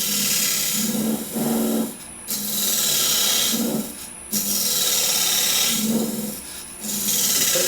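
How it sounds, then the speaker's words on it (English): Wood shavings tear off a spinning workpiece on a lathe as the tool cuts in repeated loud, rasping passes, each lasting about a second or two, separated by brief dips while the tool shifts. "I can feel some great shavings coming off. I can hear them firing and hitting my chest."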